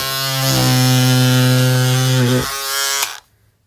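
Electric scissors buzz loudly and steadily for a few seconds cutting through four layers of fleece, dip briefly, then switch off.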